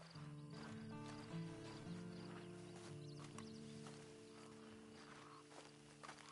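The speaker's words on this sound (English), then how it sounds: "Then you better get on this horse." A horse in the video game Red Dead Redemption 2, with soft hoof clip-clops and a faint snort at low level over a quiet ambient bed and sustained musical tones.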